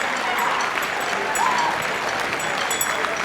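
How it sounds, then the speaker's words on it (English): Audience applause at a school winter choir and band concert, steady clapping from a crowd filling the hall for several seconds, with some voices mixed in. "Give them a round of applause."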